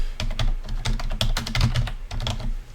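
Fast irregular clicks of typing on a computer keyboard, close and crisp, with quick bursts of keystrokes and brief pauses, no talking.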